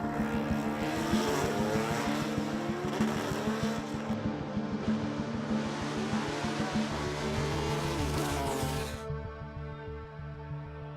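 Arrows A21 Formula One car driven by Josh Keane at the Adelaide Motorsport Festival, a loud high-revving engine screaming through rapid gear changes as it passes close, then fading to a lower idle.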